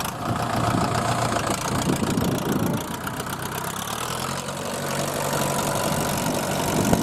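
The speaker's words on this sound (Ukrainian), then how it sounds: "Все, запускай двигуна та будемо рахувати." A tractor's diesel engine idles steadily and loudly nearby before ploughing, a continuous low rumble with knocking, holding at an even level throughout.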